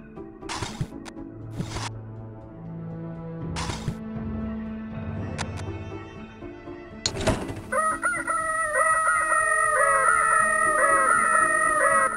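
A rooster crows in the video game Widget Workshop, loud and drawn out, after a run of thumps and low tones. Then a bright, repeating musical chime grows louder.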